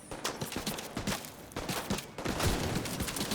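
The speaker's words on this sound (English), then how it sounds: "And there's a machine gun." Rapid machine gun fire in the video game The Division 2: a continuous, fast string of loud, close shots rattling for several seconds without pause, with no talk.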